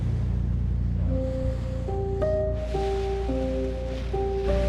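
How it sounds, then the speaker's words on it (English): Ocean waves around remote St. Helena island make a steady, loud roar of surf and wind, with a few soft sustained musical tones stepping through above the constant wash. "In the middle of the ocean."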